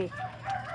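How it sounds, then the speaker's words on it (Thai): A rooster crows briefly at a distance, a faint, drawn-out call over quiet outdoor background at rice fields on a misty morning after overnight rain. "เสียงนกเสียงกาเสียงไก่ขันยามเช้านะคะ"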